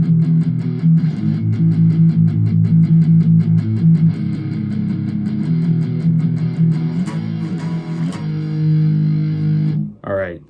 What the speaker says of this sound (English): you just palm mute open, 3rd, and then you just play 8, 3, 7.